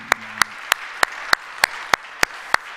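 At an early-morning church service, the congregation claps together in a regular rhythm, about nine sharp, synchronized claps in quick succession. A short murmur of speech sits faintly beneath the opening beats.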